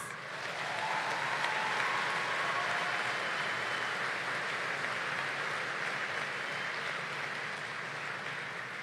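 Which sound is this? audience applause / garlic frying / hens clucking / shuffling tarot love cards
audience applause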